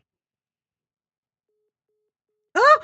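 Telephone line tone after an automated call to a senator's office cuts off, a single short tonal burst arriving abruptly at the very end after near silence.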